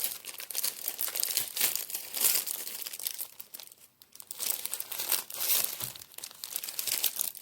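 Plastic and paper packaging crinkles and rustles continuously up close as shopping items from stores such as Action, Søstrene Grene and Babou are unwrapped, with occasional tearing bursts and no talk.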